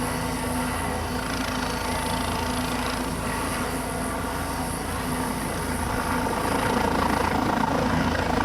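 A helicopter flies over an evening high school playoff football game in Sedgwick County, its steady rotor and engine drone held loud and constant throughout, with no voices.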